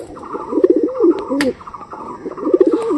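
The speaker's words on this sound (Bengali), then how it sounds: "আর এটা হচ্ছে পায়রা" Pigeons coo close by in short, repeated, throaty bursts, with a brief rustle or flutter partway through and no talking.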